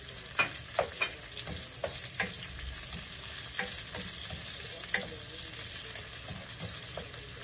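Onions sauté in a pan with a soft, continuous sizzle and scattered utensil taps and scrapes from stirring, close and fairly quiet.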